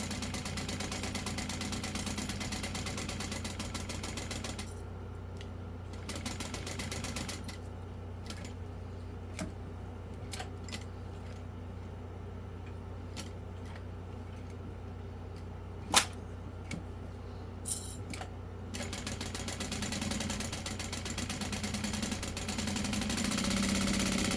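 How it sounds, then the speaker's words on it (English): A sewing machine stitches around a wristlet made with pastel thread, its motor humming in a steady mechanical drone with a brief quieter stretch, scattered clicks and one sharp knock in the middle. "Basically, I'm just gonna sew all the way around."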